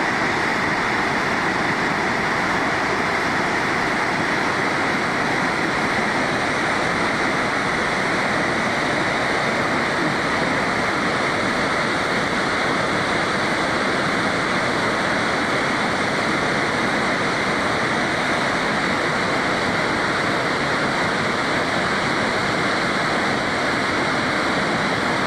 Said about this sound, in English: into the waterfall's roaring current